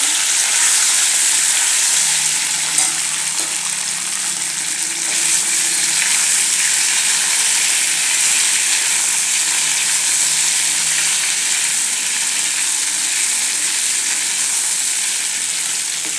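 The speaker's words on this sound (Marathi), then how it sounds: "आता याच्यात आपण जे चिरून ठेवले आहेत ते घालून घ्यायचं याला व्यवस्थित परतून घेऊया" Chopped vegetables sautéing with leftover rice in a hot pan, a steady loud sizzle and frying hiss that runs continuously, with occasional stirring scrapes and no talk.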